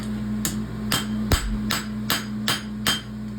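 Steady hammer blows drive a steel punch through 1/8 inch steel plate while building a Pony roadster: about seven sharp metallic strikes, close and loud, spaced roughly half a second apart over a constant low machine hum.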